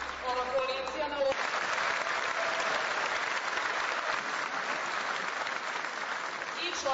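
Crowd applauding the coalition's candidates at an election rally in Odžaci, a broad sustained wash of clapping that starts abruptly after a brief spoken introduction and continues steadily throughout.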